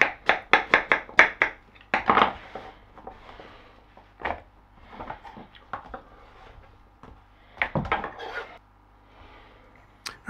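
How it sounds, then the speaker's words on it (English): A Bramley cooking apple being chopped with a knife on a board for a boozy Christmas pudding: a quick burst of close, crisp thuds, then scattered chops and scraping, with no talking. "Peel, core and chop 1 cooking apple."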